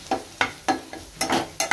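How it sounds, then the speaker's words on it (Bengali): Potato and bitter gourd fry in a pan with short scraping stir strokes, about one every half second, over a soft sizzle, close and moderately loud. "আর এদিকে আলু উচ্ছে ভাজাটা বসিয়ে দিয়েছি"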